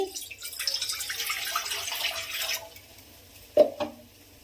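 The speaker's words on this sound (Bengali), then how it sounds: "হাঁড়িতে একটু জল দিয়ে দিচ্ছি" Water pours into a clay pot for a sugar syrup, a soft splashing trickle for about two and a half seconds, then a short sharp knock and a few faint drips, quiet and with no voices.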